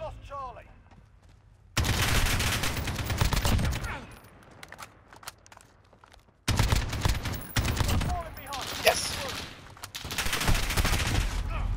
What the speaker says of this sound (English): they shot through the wall